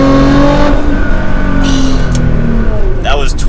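A Nissan GT-R R35 revs hard and pulls away after quick downshifts, the engine note loud and close as it climbs, with a person talking over it.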